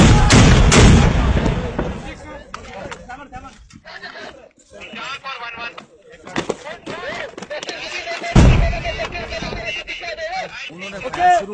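Pakistani army soldiers firing weapons outdoors, with sharp loud shots and booms at the start and again midway, mixed with heavy shouting and talk throughout.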